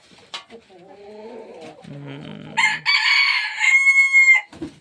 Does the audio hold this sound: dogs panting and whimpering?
no